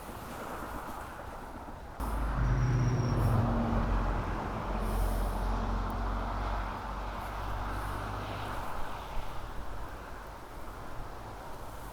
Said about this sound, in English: Wind gusts are a nightmare.